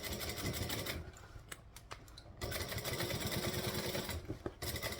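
Sewing machine running a backstitch, a steady fast mechanical whirring and needle chatter that pauses briefly in the middle before resuming, close and continuous.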